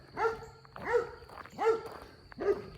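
A white Labrador dog barks four times at an even pace, each bark loud and close, with only a faint steady background between them and no talking.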